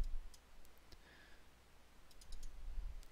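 Sharp computer mouse clicks come close and quiet, a few scattered single and paired clicks against a faint background hum, with no talking.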